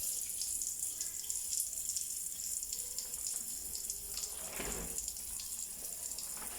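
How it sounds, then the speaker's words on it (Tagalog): A newly installed faucet at a building under renovation runs steadily, water splashing and hissing continuously at a soft, even level, with a slightly stronger gush midway. "At nakabitan na rin po ng gripo. At ito po guys, may tubig na siya."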